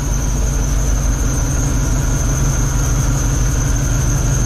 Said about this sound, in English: you can hear that LS sounds very nice